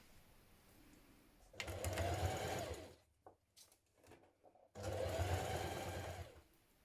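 A sewing machine runs a zigzag stitch with a twin needle on a pair of trousers, whirring in two steady bursts separated by a short pause with light clicks, moderately close and on its own.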